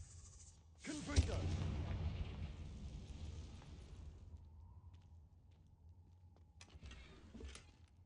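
A burst of a Confringo explosive spell in a Harry Potter-style video game: a sudden loud blast about a second in, rumbling and decaying over several seconds, with a softer second flare near the end.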